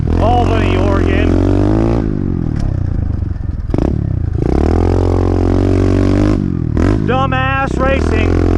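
A mini bike engine on a homemade backyard dirt track under lights in Albany, Oregon, revs loudly and continuously, its pitch sweeping up and down through throttle blips and gear changes, with a few rattly clatters.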